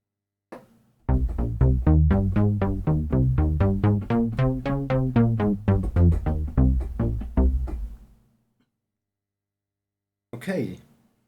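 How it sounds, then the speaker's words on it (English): Distorted bass synth line from a Waldorf Blofeld patched for EBM, its filter driven into distortion: a steady run of short, evenly pulsing notes for about seven seconds, loud and alone, then stopping, followed by a brief breath-like noise. "What you hear is not a audio clipping, but the distortion of the filter."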